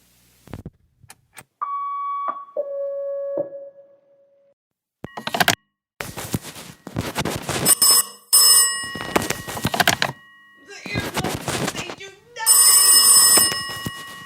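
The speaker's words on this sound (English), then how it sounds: "Answer the damn phone." A telephone rings in several bright, repeated bursts, broken up by short electronic beeps and other noises, while people talk around it.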